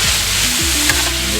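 Cheesesteak meat and vegetables sizzle loudly on a hot griddle while being chopped and mixed for a Jersey Mike's-style Big Kahuna cheesesteak, with a continuous close hiss and a low hum running underneath.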